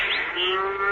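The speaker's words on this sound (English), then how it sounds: "Oh, the cow's due for milking," A cow's low moo, used as a sound effect in a 1975 radio drama, rises slowly in pitch, sustained and fairly loud over a windy hiss.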